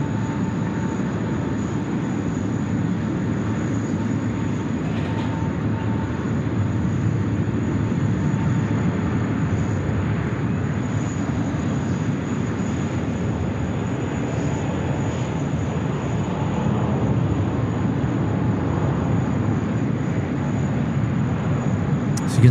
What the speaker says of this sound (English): Right, A380 rolling. Runway 16 right.